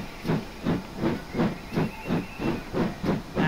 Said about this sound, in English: Hence the steam gushing out the cylinder drains.